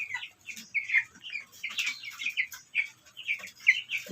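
A flock of 45-day-old broiler chickens clucks and chirps close by, a busy run of short, overlapping calls with no talking.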